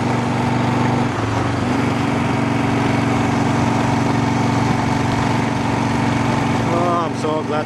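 A motorbike engine runs steadily and loudly close by throughout, with a faint rising whine near the end.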